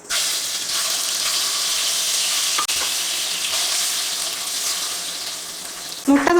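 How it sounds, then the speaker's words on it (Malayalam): Marinated eggs frying in hot oil for a quick egg biryani give off a loud, continuous crackling sizzle that holds steady throughout, with a brief utensil clatter near the end. "ഇനി നമുക്ക് ഇതേ എണ്ണയിൽ നമ്മൾ നേരത്തെ മാരിനേറ്റ് ചെയ്ത് വെച്ചിട്ടുണ്ടായിരുന്ന മുട്ട ഇട്ടിട്ട് ഒന്ന് ഫ്രൈ ചെയ്തെടുക്കണം"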